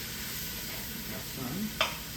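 Short rib mixture sizzling steadily in a pan as it cooks down, a continuous close frying hiss with a brief scrape and clink of a utensil near the end.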